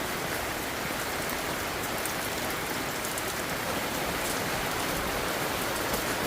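Cold rain falls steadily over a Florida garden, a dense, even hiss of drops hitting leaves and ground that stays at the same level throughout, with no voices.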